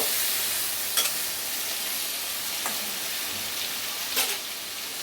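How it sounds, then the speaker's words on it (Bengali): Potato curry fries in a pan with a steady bright sizzle, while a spoon scrapes through it in a few distinct strokes roughly every one to two seconds. "দিয়ে ভালো করে নেড়ে নেব"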